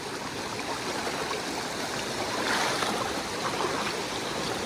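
Cold creek water flows in a steady, close, full rush as a hiker crosses it along the Pinhoti Trail, with a slight swell partway through and no talking.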